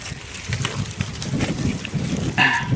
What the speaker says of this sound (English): Sorry about the wind, folks.